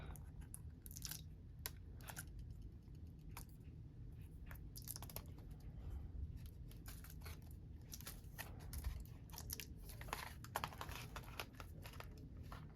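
A Dell Latitude 7400 laptop keyboard is pried and peeled away from its chassis, with faint repeated crinkling, clicking and crunching snaps scattered irregularly over a quiet background.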